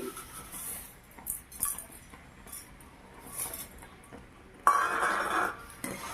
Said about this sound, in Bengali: চিনি দিয়ে ভালোভাবে নেড়ে চেড়ে নিলাম